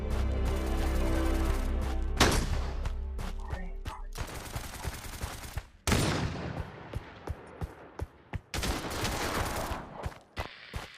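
Gunshots ring out in the VR video game Pavlov: a loud blast with a ringing tail, then a string of sharp single shots spaced irregularly, growing more frequent toward the end, with no talking.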